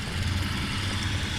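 A de Havilland Beaver bush plane comes in for a short-runway landing at a STOL practice in Jennings, Louisiana, its steady propeller-engine drone low and continuous throughout, without any talk.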